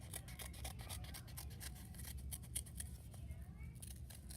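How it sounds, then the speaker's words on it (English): Scissors cut a wavy shape from folded paper for a kindergarten snowflake: a fast, even run of crisp, close snips that continues throughout, with soft rustling of paper between cuts. "I'm going to cut this wavy one out."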